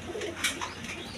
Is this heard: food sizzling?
no